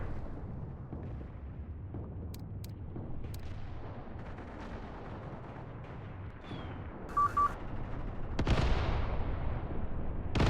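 Enemy artillery shells strike a position in the World War II strategy game Mius Front, with distant booms and rumbling over a steady battle background, building to a louder blast near the end; nobody speaks.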